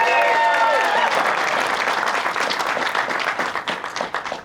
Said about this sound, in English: Give her a round of applause for her leadership.